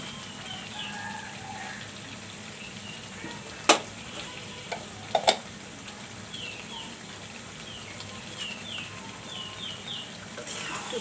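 Meat in a pot with ghee sizzling steadily while being stirred, a soft continuous frying hiss broken by a few sharp clinks of a utensil against the pot, with no talking.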